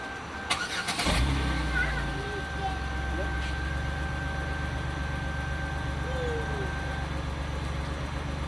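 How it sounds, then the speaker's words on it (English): A car engine cranks with a short rough burst about a second in, then catches and settles into a steady, low idle rumble that holds to the end. "Alright, Callan started the car up."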